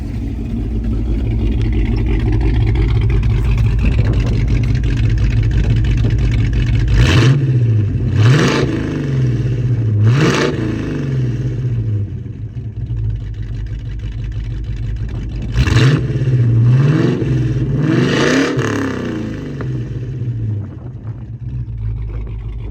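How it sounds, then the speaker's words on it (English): Carbureted 302 V8 in a previously wrecked 2000 Ford Mustang idles with a steady lumpy rumble, then is blipped through several sharp revs, two single and a quick cluster of three, each rising and falling back to idle, close and loud. "So we'll have Johnny give a little bit of a rev here."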